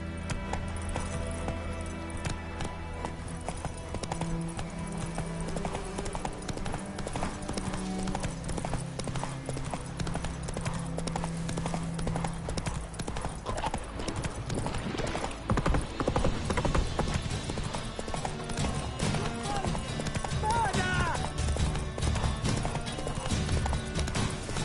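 Geralt's horse Roach gallops in The Witcher 3: Wild Hunt, a fast, continuous drumming of hooves close up over a sustained musical score, with snorts and a whinny near the end.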